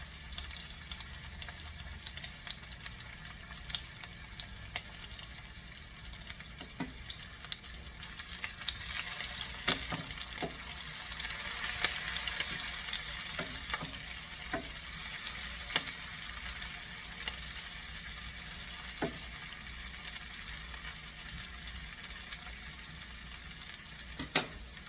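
Chopped shallot sizzling in a hot pan, a steady hiss of frying with occasional soft clicks and knocks of stirring, heard alone at a moderate level.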